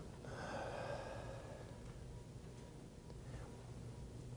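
A room full of audience members breathes out together after a deep breath, a soft, broad whoosh of shared exhalation that swells at the start and fades over several seconds, with no talk.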